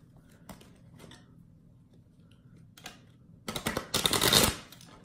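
A deck of tarot cards riffled and shuffled close by, a brisk flurry of papery snaps after a few scattered light taps.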